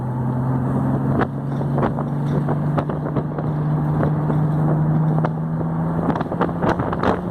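A 1970 Triumph TR6 engine hums steadily from inside the car under wind noise, with a shift in engine note as it brakes and downshifts to third gear.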